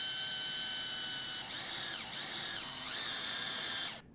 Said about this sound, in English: Carefully drive the supplied screw into each hole.